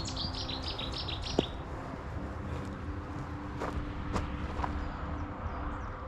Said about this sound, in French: J'ai entendu un oiseau proche